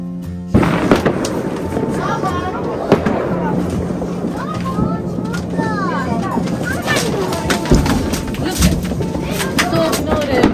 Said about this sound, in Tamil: எல்லாமே வெடி போட ஆரம்பிச்சிட்டாங்க